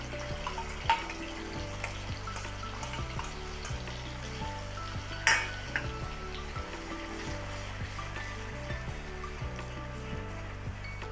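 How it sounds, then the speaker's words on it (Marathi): Ground coconut-and-onion masala paste sizzles steadily in hot oil for shev bhaji, a constant frying hiss with a couple of sharper spatters and faint background music, no voices. "चांगलं गरम झालेलं आहे आपण जे वाटण घेतलं होतं वाटून ते टाकून देऊ त्याच्यामध्ये"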